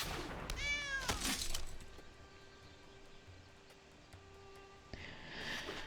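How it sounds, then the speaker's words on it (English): A small cat gives one clear, rising and falling meow close by, followed by a quiet stretch of faint room hum and a few light knocks. "We'll get the little cat over here too."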